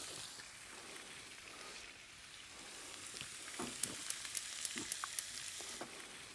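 Butter sizzles in a hot pan while bacon and red pepper jam are being cooked, a steady crackling hiss throughout with sharper spatters popping near the end.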